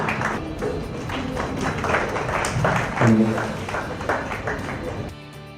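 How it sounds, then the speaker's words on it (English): Audience applause at a felicitation ceremony, sustained clapping from a sizeable crowd that swells slightly midway and ends with a brief tonal sound, with a voice faintly mixed in. "Huge round of applause for Shri Manoj Surakia."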